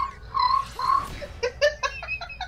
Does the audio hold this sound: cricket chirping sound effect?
yes